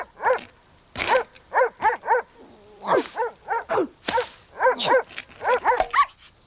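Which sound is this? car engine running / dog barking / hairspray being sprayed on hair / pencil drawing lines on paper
dog barking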